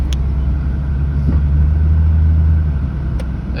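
A 2005–2014 V6 Ford Mustang cruising on the road, heard from inside as a steady low engine and road rumble with a smooth droning hum, loud and continuous throughout.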